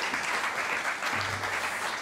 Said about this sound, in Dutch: Dus graag een heel hartelijk applaus voor hem